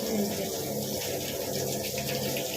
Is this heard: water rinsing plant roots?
yes